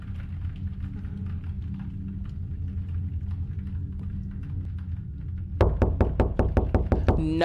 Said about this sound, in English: Y'all know how I feel about that knocking.